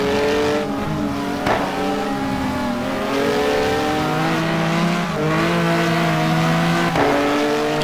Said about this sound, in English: You can hear him finessing the throttle through there.